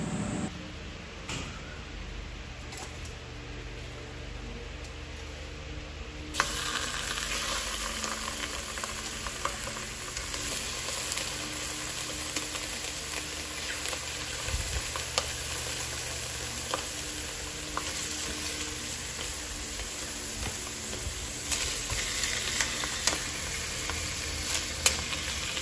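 Slices of Spam fry in a hot pan at breakfast, producing a long, even sizzling hiss that jumps louder partway through and then holds steady with faint clinks, close and without voices.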